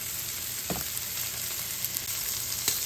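Shrimp with seasoning and coconut sugar sizzle and fry in a hot pan for a Vietnamese stir-fry with broccoli, under steady crackling with a few soft scraping stirs.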